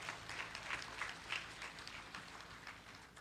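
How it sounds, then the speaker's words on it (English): Commencement ceremony crowd applauding in a large hall, a soft, sustained patter of many hands with a few sharper claps standing out, heard at a distance. "go ahead and give her a round of applause"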